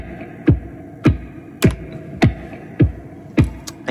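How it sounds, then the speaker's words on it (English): Percussive hits struck on a guitar body and looped on a Boss RC-600 loop station, a steady beat of sharp thumps roughly every half second over a low hum, with no talking. "I'm just hitting on a guitar, but here we go."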